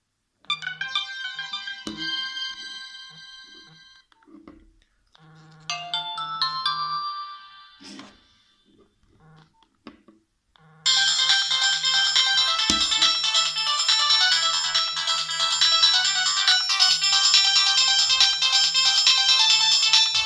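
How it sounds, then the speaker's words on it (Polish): A phone's factory default ringtones play one after another through its loudspeaker: a few short bright melodic chimes with pauses between them, then a long, loud, continuous ringtone that carries to the end. "I teraz sobie wejdziemy nasze oryginalne dźwięki w tym telefonie, jakie zostały wybrane przez producenta."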